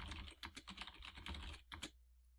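Quick irregular keystrokes on a computer keyboard, a close, quiet clatter of key presses for about two seconds before falling silent.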